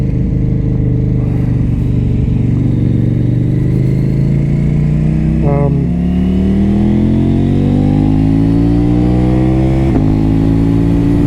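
A KTM Duke 890R motorcycle rides at speed on a cold, foggy morning, its engine droning loud and close with a steadily rising pitch as it accelerates, over constant wind rush.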